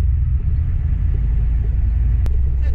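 An OBS-era Ford truck with a freshly replaced master cylinder drives along, a loud steady low engine and road rumble heard from inside the cab, with one brief sharp click near the end.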